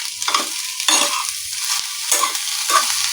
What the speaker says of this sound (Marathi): हे मऊ होईपर्यंत मी परतेन बघा